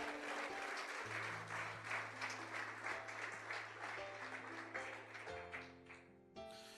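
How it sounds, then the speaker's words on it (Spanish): A church congregation applauds during a sermon, with dense, sustained clapping from a crowd filling the whole stretch over a low held organ or keyboard tone, then tapering near the end. "Dele un aplauso al Rey de la Gloria."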